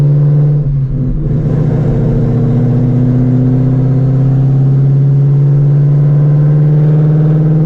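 A 900HP Shelby GT350 fitted with a new clutch under hard acceleration with its wheels spinning, giving a loud, steady, close engine drone that holds unbroken from start to finish.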